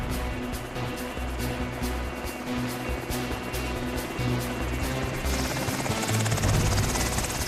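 Military helicopter carrying special forces troops for an airborne insertion, its rotor and turbine a loud, steady, close roar with a rapid blade chop that continues unbroken throughout.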